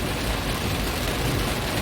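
Heavy rain pours down in Palembang on Jalan Baru, the road toward the airport, a dense, steady hiss with a low rumble underneath, continuous and loud throughout.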